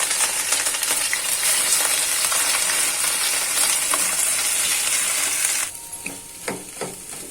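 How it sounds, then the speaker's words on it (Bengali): Soaked semolina (suji) being stirred and roasted in a pan over very low gas heat, giving a steady dry sizzle with scraping and clinks. The sound drops to quieter, scattered stirring knocks near the end. "এই সুজি দিচ্ছি। আমি কিন্তু গ্যাসের হিটটাকে একদম লো করে রেখেছি।"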